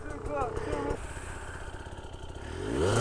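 Hard enduro motorcycle engine rumbling and revving as the bike is ridden into a creek ditch, a steady close engine note that rises loudly at the end, with people talking over it.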